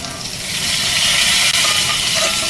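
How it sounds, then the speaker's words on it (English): Steak searing in a hot pan under a press while cooking in a van in Sedona, Arizona: a loud, steady, close sizzling hiss that swells and holds throughout. "I'm putting the press on it again to get a even nicer sear."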